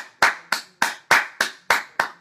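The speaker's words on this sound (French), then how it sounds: "si on peut pas applaudir franchement" Seven sharp, evenly spaced hand claps in a slow steady rhythm, close and clear, from a single pair of hands rather than a crowd, with no speech between them.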